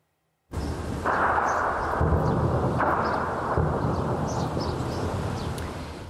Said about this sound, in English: Video capturing explosions and heavy gunfire in the capital.